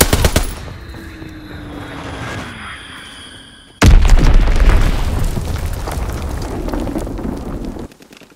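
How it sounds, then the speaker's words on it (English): Explosions and heavy gunfire in a Call of Duty WWII team deathmatch on the USS Texas map: a sharp, loud blast hits midway and is followed by a sustained roar of rapid shots and rumbling, with quieter battle noise before it. "Enemy bomb incoming! Get to cover!"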